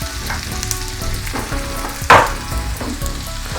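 Onions frying in a pan for shakshuka, a steady close sizzle with small crackles and one sharper burst of spitting midway, no talking.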